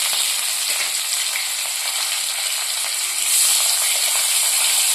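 Fresh shol fish hit hot oil in a wok and give off a loud, continuous sizzle that swells a little partway through, with no voices.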